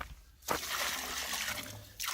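Water poured bit by bit into a bucket of clay plaster mix with shavings and grit, a steady splashing trickle running for about a second and a half before breaking off.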